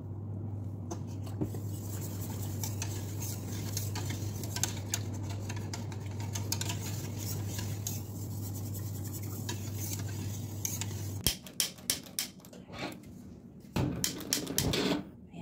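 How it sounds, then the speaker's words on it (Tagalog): A spoon stirs a milk pudding mixture with vanilla in a pot, giving steady soft scraping and light clinks throughout, with a few sharper taps near the end. "kailangan haluin nyo guys lagi"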